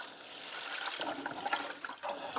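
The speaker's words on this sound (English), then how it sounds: "So now I'm ready to add my water." Water is poured into a GE Profile Opal nugget ice maker's reservoir, a steady splashing, trickling flow close by that grows busier and more uneven partway through, with no talking.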